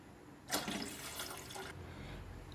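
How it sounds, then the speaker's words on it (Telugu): Water poured from a tap into a cooking pot for rice, a steady splashing gush lasting about a second, then tapering off into faint background hiss. "రైస్ ఉడికించుకోవడం కోసం ఒక గిన్నె పెట్టుకున్నాను నేను అందులో వాటర్ వేస్తున్నాను"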